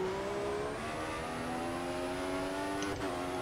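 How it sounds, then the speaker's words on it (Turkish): Mercedes-engined Formula 1 car in the F1 2014 racing game, a steady high-pitched engine whine holding nearly constant pitch with a brief dip near the end, loud and close with no talking. "Mercedes motoru."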